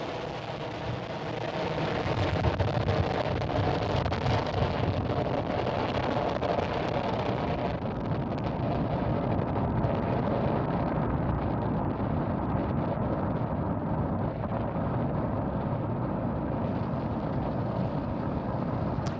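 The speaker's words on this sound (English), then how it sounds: "It is dark, but we can definitely hear Falcon 9" SpaceX Falcon 9 rocket launching at night, carrying a Starlink batch on the booster's eighth flight: a loud, broad, continuous roar rumbling steadily from a distance, without voices.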